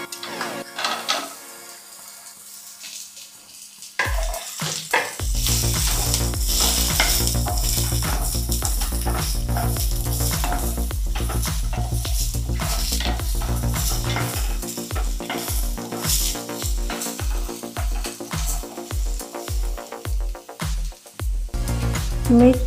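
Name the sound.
cumin and raw mango frying in a pan for mango pickle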